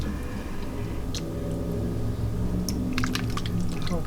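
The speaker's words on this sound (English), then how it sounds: "we're going to add some cold light cream. We're going to stir that in slowly." Cold light cream being poured and stirred slowly into a tortellini and ham soup in a cast iron Dutch oven, a soft continuous liquid swirl with faint wet squishing and a few light clinks.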